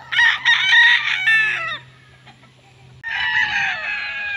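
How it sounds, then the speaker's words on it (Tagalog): Roosters on a farm crow loudly and close by, one long drawn-out crow followed after a brief pause by another. Faint clucking from other chickens is heard between the calls, and no one speaks. "Napakaraming manok"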